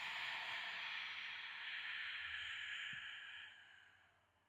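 A person breathes out slowly and steadily during a myofascial arm-line stretching exercise, a long airy hiss that fades gradually toward the end.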